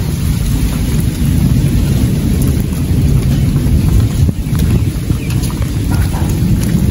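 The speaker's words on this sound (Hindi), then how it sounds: "बारिश भी तेज हुई है" Heavy rain pours steadily outdoors with low thunder rumbling underneath, a dense loud wash of noise that carries on without pause and with no voices.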